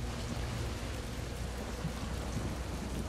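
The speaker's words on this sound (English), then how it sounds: "Look at this rain." Rain falling in the shooter game Crysis 2, a steady, dense hiss of downpour with a low rumble underneath, continuous and even throughout with no voices.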